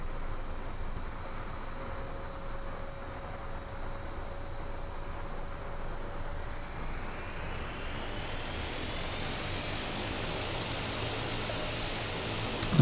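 An Embraer E-175 jet's number 2 engine spools up in the X-Plane 11 flight simulator, a steady rushing whine rising gradually in pitch and loudness over a broad airport hum.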